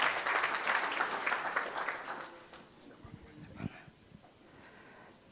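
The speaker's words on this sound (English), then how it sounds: "Please clap hands for her as well." An audience at a workplace wellness policy launch applauds, the clapping loud at first and then fading away within a few seconds, followed by quieter shuffling and a voice.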